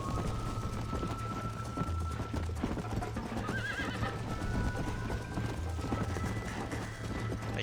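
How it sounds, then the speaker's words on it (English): A horse in the Red Dead Redemption video game gallops with steady rapid hoofbeats under a dense, loud game soundscape, and a brief whinny rises partway through. "I think I was galloping a bit too much, so I need to control my horse's stamina here."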